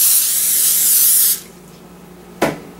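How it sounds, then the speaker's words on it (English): Cooking spray hisses steadily onto heavy-duty aluminum foil for just over a second, followed by a short second burst after a pause. "spray my heavy-duty aluminum foil with cooking spray"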